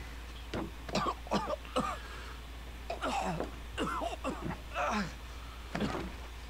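A character in The Evil Within coughs up blood in a series of harsh, wet, gurgling coughs and throat-clearing bursts, close and fairly loud over a low steady hum.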